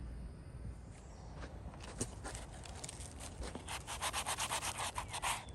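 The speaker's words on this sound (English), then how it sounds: "I'm sanding this down with a sanding sponge, 80 grit" An 80 grit sanding sponge scrubs rough old paint on a 1955 Westinghouse fan under restoration, giving a steady close rasping that speeds into rhythmic back-and-forth strokes near the end. No voices.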